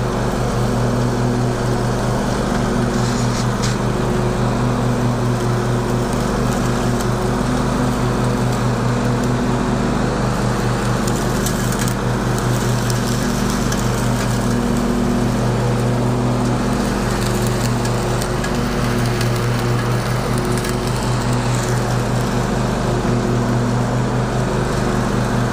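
A Husqvarna riding lawn tractor mows the lawn with a steady, droning engine hum that holds an even pitch throughout, moderately loud and unbroken.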